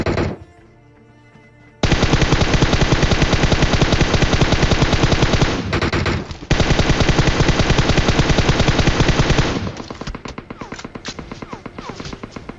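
Loud, close automatic gunfire from the video game PUBG Mobile: long sustained bursts of rapid shots, a brief pause and stutter midway, then sparser scattered shots trailing off at the end.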